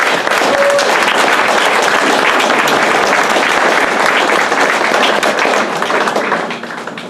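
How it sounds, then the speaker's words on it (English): Audience applause at an EMS banquet: loud, dense clapping from a full room, sustained evenly for several seconds before tapering off at the end. "one more big round of applause for Courtney Patnode and the American Legion"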